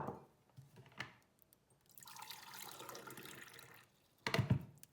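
Water is poured into a pot of black quinoa, a steady splashing stream lasting a couple of seconds, with a louder splash and clatter near the end.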